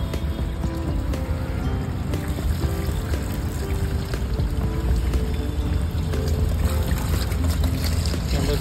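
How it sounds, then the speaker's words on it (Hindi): Water sprayed at a car's AC condenser and radiator during a home service, a continuous rushing, splattering stream that stays loud and steady. "अभी देखिए हमने कंडेंसर हटा दिया है तो अब इसके पीछे देखते हैं कि पानी आर पार जा रहा है"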